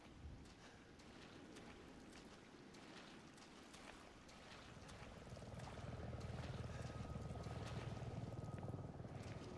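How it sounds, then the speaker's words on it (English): Helicopter in the video game Resident Evil 7, a low rotor drone that grows louder and heavier partway through, mixed with windy, watery ambience and no speech. "Helicopter?"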